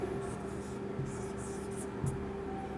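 Chalk or marker strokes on a board during a maths class, short scratchy marks over a steady hum in a classroom.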